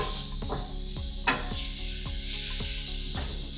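Chopped celery sautéing in a pan before cauliflower rice goes in, a steady close sizzle broken by regular scraping stirs about every half second, with one sharper scrape near the middle.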